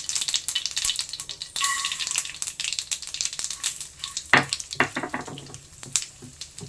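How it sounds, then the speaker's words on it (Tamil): Urad dal fries in hot oil with mustard seeds, an active crackling sizzle with sharp pops and stirring scrapes, fairly close and loud, without speech. "உளுத்தம்பருப்பு நல்லா ஃப்ரை ஆகணும்."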